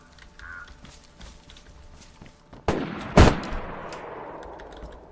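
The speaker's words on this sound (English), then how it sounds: "Pop off a couple rounds." Rifle rounds fired in the video game DayZ: quiet ambience with faint ticks, then two loud sharp cracks a half second apart, each trailing into a long echoing decay.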